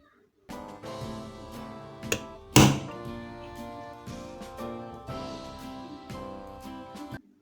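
A fan repair tool is struck to seat a bushing retaining spring, giving ringing metallic knocks over several seconds, with one loud sharp hit near the middle and fainter resonant taps around it.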